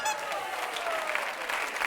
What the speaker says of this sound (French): on peut applaudir très très fort Philippe